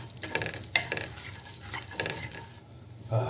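Nigella seeds sizzle in hot oil in a pan over medium heat, a steady frying hiss with stirring clinks and scrapes of a utensil against the pan, close and alone without talk.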